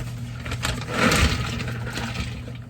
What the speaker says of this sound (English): I'm going to add 2 quarts of ice